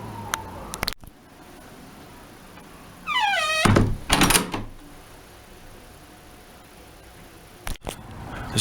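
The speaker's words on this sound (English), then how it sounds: "As the door closes, this engages in the frame and throws the bolt out." A door with an Ingersoll SC71 lock swings shut, giving a rising creak, then a solid thunk and metallic clatter as the bolt is thrown into the frame, followed by a couple of quieter clicks.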